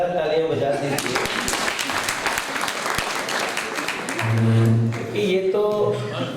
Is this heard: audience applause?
yes